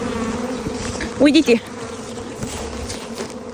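Honey bees buzzing around a hive in a village apiary, a dense continuous drone with a brief closer buzz passing near; a person speaks a single short word.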